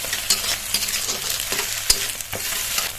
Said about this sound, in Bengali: 3টে ডিম নিয়েছি আমি, ফাটিয়ে গরম তেলে দিয়ে দেবো।